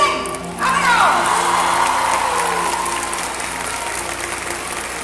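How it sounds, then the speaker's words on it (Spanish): Festival crowd at a Tecamac concert breaks into loud applause and cheering after a short pause, the clapping swelling then settling into a steady wash with voices and a whistle-like tone mixed in. "démosle un fuerte aplauso"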